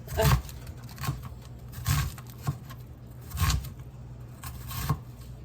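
A knife chops an onion on a cutting board, giving about six sharp, separate chops at an uneven pace, close and fairly clear, with quiet pauses between them.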